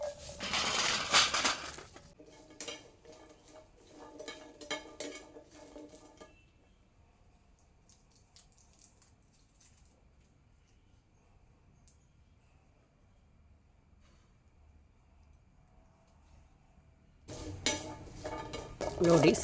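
Fried jackfruit seeds are lifted out of a pan with a metal utensil, giving loud, close clattering and scraping at the start and again at the end, with a quiet stretch of soft clinks in between.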